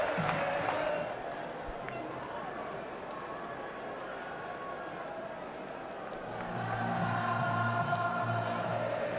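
Cricket crowd at the 2019 England vs New Zealand World Cup final applauding and murmuring steadily, a broad distant wash of clapping and crowd noise that swells louder near the end.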